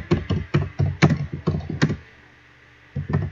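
Fingers type in quick bursts on a computer keyboard, with a run of crisp, close key clicks, a short pause, then a few more taps.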